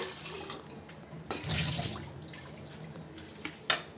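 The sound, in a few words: rinsing an RO water filter part with water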